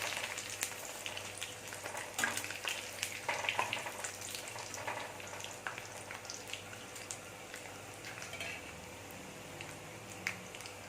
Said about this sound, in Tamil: இதுவும் நல்லா கிறிஸ்பியாக ஃப்ரை ஆகிடுச்சு